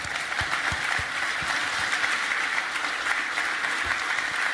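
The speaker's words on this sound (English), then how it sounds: "So give yourselves a round of applause." Convention audience at an association's 125th anniversary opening gives a steady, loud round of applause, a dense wash of many hands clapping throughout with a few nearer individual claps standing out.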